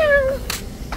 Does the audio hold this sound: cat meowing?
yes